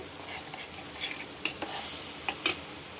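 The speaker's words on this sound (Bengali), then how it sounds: "ভালো করে কষিয়ে" Spices sautéing in a pan for soya ghugni while a utensil stirs them: soft sizzling underneath, broken by a few sharp scraping taps and metallic clinks, close and quiet, with no talking.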